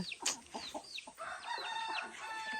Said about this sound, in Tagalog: Dami nilang manok din dito, oh